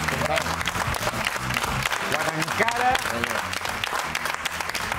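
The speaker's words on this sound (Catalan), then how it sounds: "Estaven aplaudint molt." Dense applause from an audience fills the moment, with a voice speaking over the clapping.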